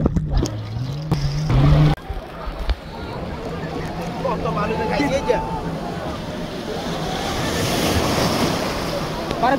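Sea waves roll and wash onto the beach at Cox's Bazar, a broad rushing surf with gusty wind noise on the microphone and a few voices early on.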